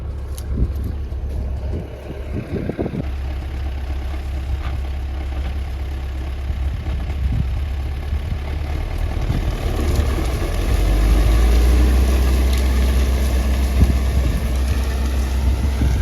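A tractor pulls a PT-6 rolling knife roller through a field, its engine droning steadily with a deep low rumble that swells slightly partway through, close and continuous without speech.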